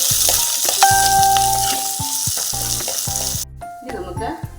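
Finely chopped shallots drop into hot oil with curry leaves and chilies, giving a strong, continuous close-up sizzle that eases slightly near the end, with music playing underneath.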